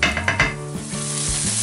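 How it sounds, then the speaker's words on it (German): Salmon fillet and small garlic pieces sizzling loudly in a hot pan, with a few stirring clatters at the start and a steady frying hiss throughout. "kommen jetzt noch direkt die leckeren kleinen Knoblauchstückchen rein und wir geben sofort den Lachs hier oben drauf"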